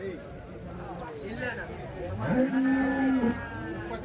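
Cattle moo at a Sunday cattle market in Chintamani, with one long clear moo rising over a busy crowd murmur and other animal calls nearby.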